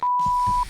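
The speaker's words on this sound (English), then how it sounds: "phone went off. What an amateur." A mobile phone goes off with a single steady electronic beep lasting just over half a second, loud and close, with a faint rumble around it.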